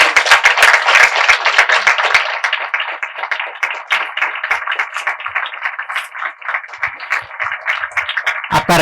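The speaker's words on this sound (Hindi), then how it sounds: "तालियां please." A crowd claps loudly and continuously at a convocation ceremony, a dense burst of applause that gradually thins into scattered claps.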